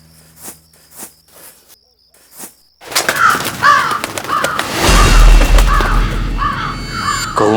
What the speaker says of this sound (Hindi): कौओं की आवाज